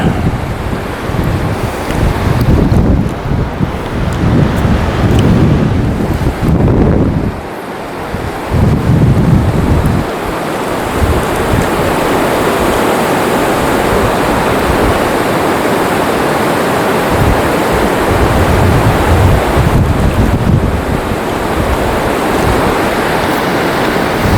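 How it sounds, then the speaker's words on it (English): Fast water roars through rapids on a wilderness river, a loud, steady rushing wash close by that continues unbroken throughout, with no voices. "standing right at the lip of this raging rapids here"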